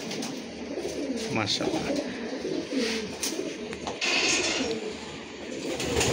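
Pigeons kept by a breeder cooing softly and repeatedly at close range, with someone talking over them throughout.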